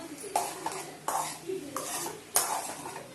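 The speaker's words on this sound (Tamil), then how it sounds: "இது வந்து பார்த்தீங்கன்னா நல்லா வதக்கி விடுங்க" Bottle gourd sautéing in a pan while being stirred for a kootu, the spatula making clinking scrapes about four times against the metal over a faint sizzle.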